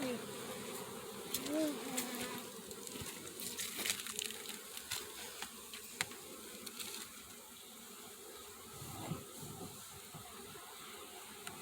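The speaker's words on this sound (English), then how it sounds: "Now we'll go find a frame with a bunch of bees on it." Honey bees swarming over a heavy hive frame, a soft continuous buzzing hum with scattered faint knocks and handling sounds nearby.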